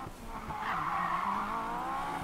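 Tires squeal in a sustained skid as a car drifts in Need for Speed Payback, the screech holding loud and continuous for about two seconds over an engine rumble.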